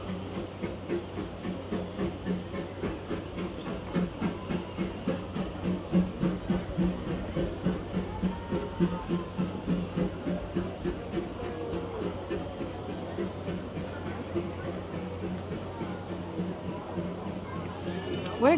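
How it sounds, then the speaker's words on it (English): Disneyland steam train rolling past nearby, a steady rhythmic chuffing and rumbling with hiss, running continuously beneath people talking close by. "look, there's a train coming by."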